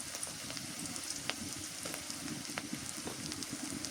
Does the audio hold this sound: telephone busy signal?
no